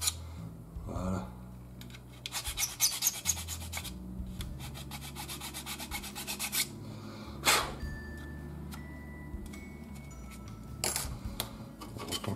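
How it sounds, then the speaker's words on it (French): A steel file rasps against a plastic part of a 1/48 scale Mirage IIIc model kit in repeated quick strokes, close up, in short bursts separated by pauses and small handling clicks, no talking. "Je vais essayer de faire que la lime acier c'est quand même plus sécurisé."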